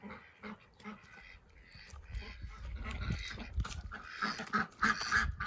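Ducks and geese on a farm in the evening, with freezing rain and slippery ground, give off scattered quacks and honks at moderate distance, growing busier and louder toward the end.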